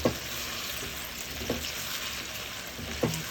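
Pork belly frying in a pan, a steady moderate sizzle with a few soft clicks of the pan or utensil, no voices.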